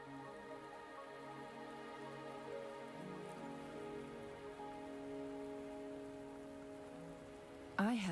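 Steady rain falls in the video game Wuthering Waves, a soft continuous patter under sustained background music, with no voices.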